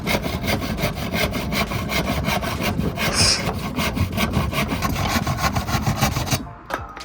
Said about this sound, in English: So We have to cut that corner off, haven't we? Yeah. Right, get to the sawing.